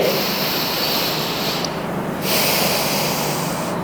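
Long, forceful breaths are pushed out close to the microphone during a seated chair breathing exercise, a loud airy rush with a brief lull partway through.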